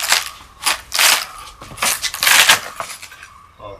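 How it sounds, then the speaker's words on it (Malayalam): An areca palm trunk being broken apart into poles, a series of close, loud cracking and splintering bursts in an irregular rhythm. "അപ്പം ഞാൻ ജസ്റ്റ് ഇതിനെ പൊട്ടിക്കുവാണ്."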